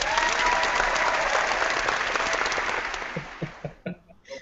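Applause sound effect triggered by a button, a burst of crowd clapping and cheering that fades out over a few seconds, followed by a few isolated claps.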